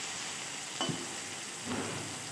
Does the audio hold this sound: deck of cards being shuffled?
no